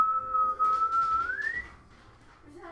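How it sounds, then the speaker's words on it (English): A loud, clear sustained whistle holds one steady pitch, then slides upward and cuts off, heard alone with faint background noise. "you hear a whistle again."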